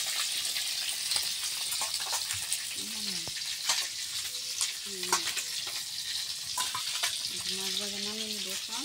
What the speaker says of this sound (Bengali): মাছ ভাজা নামিয়ে নিব এখন।